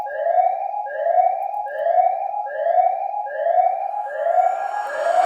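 Alarm siren in a Roblox sinking ship game, a rising wail repeating about every 0.8 seconds, loud and steady, with a burst of noise creeping in near the end.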